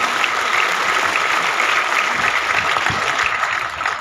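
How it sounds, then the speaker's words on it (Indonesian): A large crowd at an Indonesian Agricultural Service Day ceremony applauds the President with steady, continuous clapping that fills the whole stretch, loud and unbroken, with no voices on top. "Tepuk tangan untuk Bapak Presiden."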